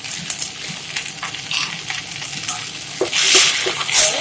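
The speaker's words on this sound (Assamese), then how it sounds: "অলপ 2 মিনিট সময় ভাজিব লাগিব এইখিনি।" Heart leaf (masundori) chutney frying and being stirred in a pan, with a steady close sizzle, scraping stirs and a few brief clinks throughout, no talking.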